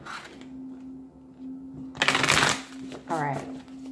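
Tarot cards are riffled and shuffled in a quick crisp flurry, then a shorter second shuffle, with a faint steady hum underneath and a brief voice between.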